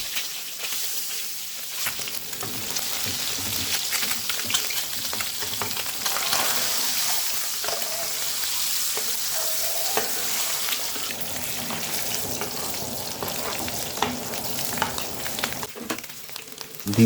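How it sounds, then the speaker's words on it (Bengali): Spiced eggs fry in oil on a griddle with a continuous bright sizzle and hiss, steady and close, broken now and then by soft stirring and scraping. "তাওয়াতে তেল ঢেলে ডিমগুলা ভেজে নেব।"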